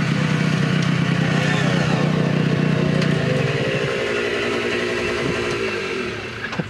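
Motorcycles ridden by a group of bikers pass close by, loud engines rumbling with shifting, overlapping pitch as they go past and slowly fade, with no one talking.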